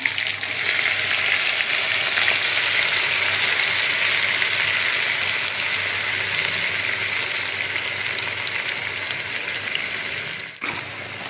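Masala and tomatoes fry in a pan, giving a loud, steady, close sizzle that tapers slightly toward the end before a brief sharp break, with no voices.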